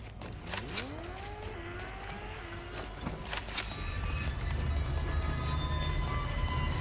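Train rumble in a video game, a rolling low drone that grows louder and steadier toward the end, with a sliding whine and clanks early on.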